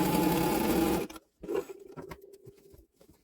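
A sewing machine hums in one brief, close burst while stitching an apron, then stops, and a few soft clicks and fabric rustles follow.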